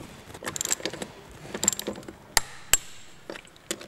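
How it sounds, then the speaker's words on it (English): A torque wrench tightens the wheel nuts on a Triumph Spitfire after the jack is lowered, giving a few faint metallic clicks and clatters amid quiet handling noises, with two sharper clicks standing out. "now we're torquing up the wheel nuts"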